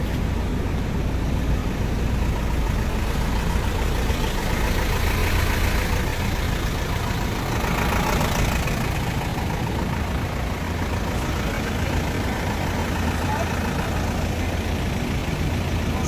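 A Mediterranean Gyro Products food truck idles on a New York City street corner, its engine giving a steady, unbroken low rumble close to the microphone for the whole stretch, with faint city ambience and no talk.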